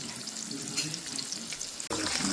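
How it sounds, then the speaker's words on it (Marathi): Mackerel sizzles steadily in a pan with a little oil, a close, continuous crackling hiss that cuts out for a split second near the end before resuming. "हे आता आपण याच्यावर एक फिश सोडूया"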